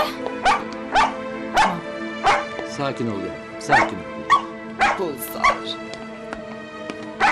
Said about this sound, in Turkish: Köpek ağlamaya devam edecekse dışarı çıkarmamız gerekecek.